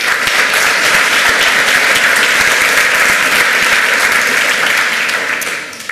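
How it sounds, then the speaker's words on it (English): A crowd at a conference talk applauds steadily, dense clapping filling the room before it starts to fade near the end. "One round of applause for Kai, please."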